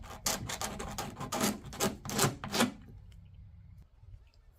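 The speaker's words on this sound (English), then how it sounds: "Okay, I'm just going to scrape the adhesive up there." Scraping adhesive off a Ryobi cordless leaf blower housing produces a series of short, close rasping strokes for about three seconds, then it goes quiet apart from faint handling noise.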